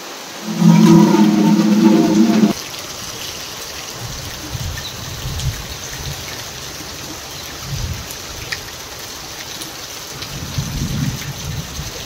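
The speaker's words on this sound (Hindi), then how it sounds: "बाहर पानी गिर रहा है अभी" Steady rain falls outdoors on a morning, a dense even hiss of drops with soft low rumbles, after a short loud tonal burst at the start.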